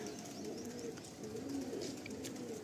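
Soft, low cooing from an Andhra pigeon, a bird of good bloodline, repeating in a steady murmur close by against faint background noise, with no talking.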